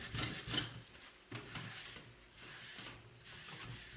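Soft, faint rubbing strokes as a cloth wipes excess clear chalk-paint wax off a painted wooden piece, several short swipes repeating at an uneven rhythm close by.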